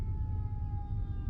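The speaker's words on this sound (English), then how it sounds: "there is a fire truck passing by." A fire truck passes by with its siren holding a thin, faint, distant tone over a low traffic rumble, with no voices.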